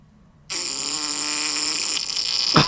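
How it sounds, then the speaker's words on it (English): A wet human fart sound effect from the Epidemic Sound library: a sudden, sustained, buzzy blast of about two seconds, loud and close, ending in a brief sputter. "Human Fart Wet 1"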